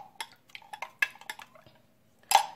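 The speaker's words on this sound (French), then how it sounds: "vous mélangez le tout dans votre verre ou bien dans votre récipient" Spoon clinking against a glass while mango mixture is stirred: a string of light, close ticks and clinks at an uneven pace, then one louder knock at the end, with no talk.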